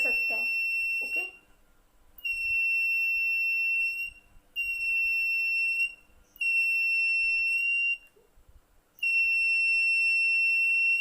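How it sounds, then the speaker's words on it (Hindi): An electronic buzzer in a robotics activity kit sounds in five steady, loud high-pitched tones of roughly a second and a half each, separated by short gaps, with a faint voice briefly audible at the start. "आप बजर की साउंड को इंक्रीज और डिक्रीज कर सकते हैं"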